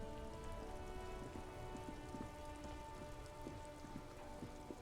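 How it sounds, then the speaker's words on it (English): Steady rain falls in the video game Disco Elysium, a continuous soft hiss of drops hitting surfaces, with faint scattered drips over a low, even wash. There is no speech. "It's raining again."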